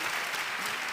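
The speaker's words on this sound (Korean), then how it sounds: "박수 한번 하고요" A conference audience gives a brief burst of steady applause, dense and even throughout, with no voices standing out.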